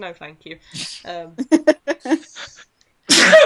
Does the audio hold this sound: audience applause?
no